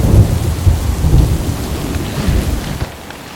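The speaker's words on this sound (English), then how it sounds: "Between the thunder and the lightning. The rain I can get down with." A thunderstorm in the Catskills forest, with deep rolling thunder rumbling loudly under steady rain pattering on surfaces, all close and without voices.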